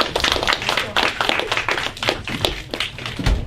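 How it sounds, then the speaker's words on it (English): A small audience claps for debate participants, a close, fairly loud patter of distinct individual hand claps with an uneven rhythm that continues steadily throughout. "Give them a round of applause"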